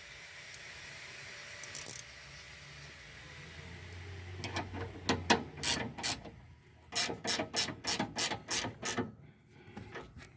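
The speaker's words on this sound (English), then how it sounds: "catch the bottom, and then tighten it up with the spanner" A spanner tightens the stabilizer link nut on a 2014 Honda Vezel RU3 Hybrid, with a few early clicks followed by a long run of rapid ratcheting strokes in quick bursts, close and crisp.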